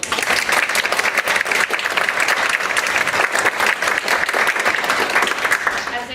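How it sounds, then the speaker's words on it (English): An audience at a symposium applauds with loud, dense, continuous clapping that holds steady throughout before easing slightly at the end. "if everyone can have a round of applause."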